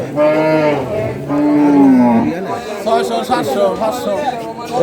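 Cattle at a busy village cattle market near Narayanganj, Bangladesh, lowing in long drawn-out moos close by, with crowd chatter and people talking throughout.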